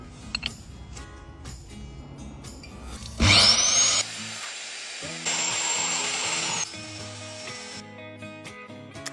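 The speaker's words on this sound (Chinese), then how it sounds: "机器钻孔的深度就只有30厘米左右" A rail-guided core drill with a 160 mm bit bores into a rock cliff wall. It starts with a loud, high whining burst, then settles into a steadier grinding drone before winding down, with quieter knocks around it.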